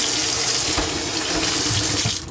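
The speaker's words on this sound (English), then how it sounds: "as I rinse the bottle off with hot water, it builds up pressure within the bottle and the liquid spills out" Hot tap water runs steadily from a faucet over a bottle being rinsed, a continuous close splashing rush with no voices.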